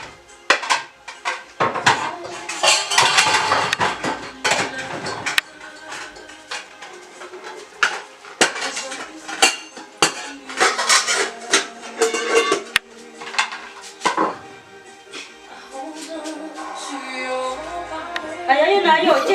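Plates set down on a table give repeated ceramic clinks and clatters in uneven bursts, close by, with people talking over them at times.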